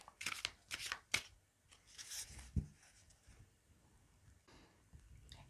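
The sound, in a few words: shuffling tarot cards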